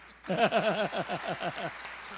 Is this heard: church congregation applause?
yes